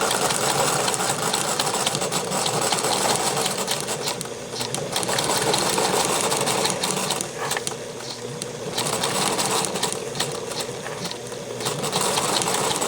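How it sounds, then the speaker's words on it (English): A sewing machine runs steadily while stitching a seam, with a loud, continuous whirring hum and rapid needle chatter that dips briefly a few times when sewing pauses and resumes, close up. "now you're going to sew and go all the way to the bottom"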